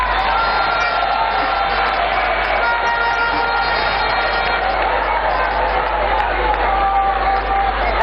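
Crowd noise at an outdoor NDC political rally in Ghana: a steady, dense wash of cheering and clapping, loud and continuous throughout, with voices mixed into the din.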